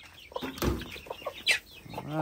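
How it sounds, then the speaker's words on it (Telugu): A rooster crows close by, its call rising and trailing off, with a few clucks and faint talking around it. "పుంజు."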